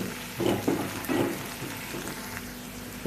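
Ginger garlic paste fries in a pan, giving a soft, steady sizzle with a few louder bursts of crackle and spatter near the start, and no voices.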